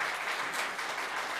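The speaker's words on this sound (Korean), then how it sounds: "원래 이럴 때 박수 한 번 더 쳐주시는 겁니다" A hall full of party members at a South Jeolla candidates' rally claps continuously, a dense, even wash of applause close and loud throughout.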